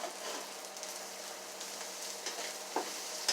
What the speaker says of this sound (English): you would just want to stir it around